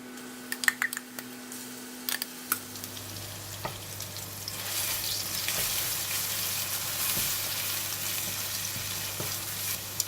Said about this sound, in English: We're going to stir fry the mixture until the fragrance come out